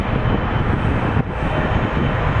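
An Etihad airliner departs Toronto Pearson for Abu Dhabi, its engines giving a loud, steady broadband roar that holds throughout with a brief dip midway, close and dominant, no voices.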